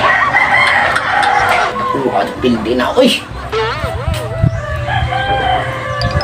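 A rooster crows amid loud, excited talk from several people close by, its call rising and wavering midway through a busy, noisy scene.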